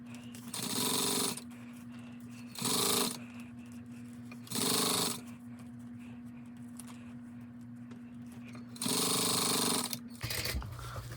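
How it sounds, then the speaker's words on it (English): A sewing machine top stitching a crossbody bag panel in bursts, four loud runs of rapid mechanical hammering separated by pauses, with a steady low motor hum underneath, close and clear. "Go ahead and top stitch at a number 5."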